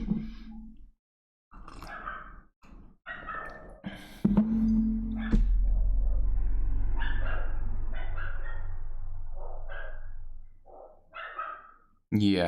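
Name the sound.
dog barking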